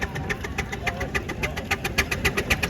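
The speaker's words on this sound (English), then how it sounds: "Our wonderful Ulchin engine here" A vintage stationary engine at a steam rally runs with a steady, rapid rhythmic chuffing beat, loud and close, repeating evenly throughout with no speech over it.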